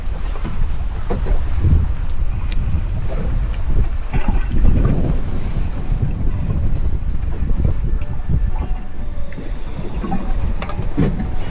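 A sailboat sailing upwind from St Peter Port toward Sark in the Channel Islands, with loud constant wind buffeting the microphone over the wash and slap of water against the hull, no voices.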